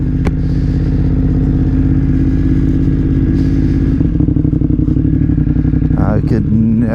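A 2022 BMW F900R motorcycle engine rumbles loudly and steadily up close, its deep exhaust note rising into revs near the end, with a voice faintly underneath.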